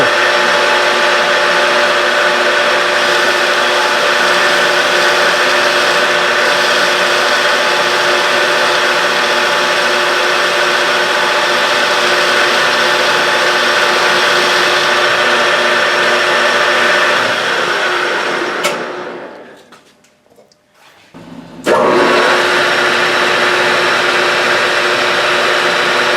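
A power tool whirs loudly and steadily in a shop while cutting a chamfer, holding a constant high-pitched drone for most of the time before briefly spinning down and starting again.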